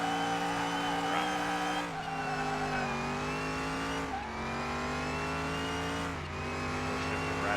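A 1936 Fiat 500 in a drag race video game: its engine revs in a continuous loud drone, with pitch climbing and then dropping at three gear shifts spaced about two seconds apart.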